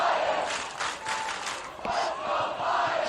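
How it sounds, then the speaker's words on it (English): A high school varsity football crowd at a Pius X game roars and cheers loudly and continuously, rising yells and whoops from the stands with a commentator talking underneath. "This Pius crowd really into it, wanting their defense to get a stop here."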